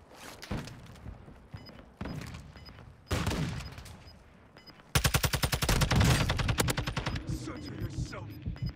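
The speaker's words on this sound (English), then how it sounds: "I'm taking enemy fire!" Gunfire in the video game Warzone 2.0: scattered shots and thuds first, then a sustained rapid burst of automatic fire, loud and close, with a faint voice in the game mix.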